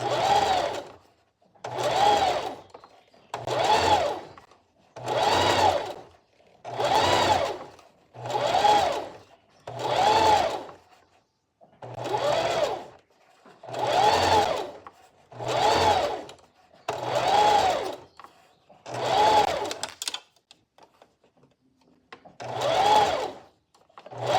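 A sewing machine stitching a ruffle seam on a dress, running in about fourteen even bursts of close, whirring motor hum, each lasting roughly a second with short quiet gaps between, and one longer pause near the end.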